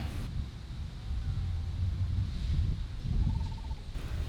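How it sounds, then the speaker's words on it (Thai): Wind blowing steadily at a campsite, a continuous low rumble buffeting the microphone at moderate level, with a faint tonal whine in the background and no talk. "ลมมันพัดมาอยู่ตลอด"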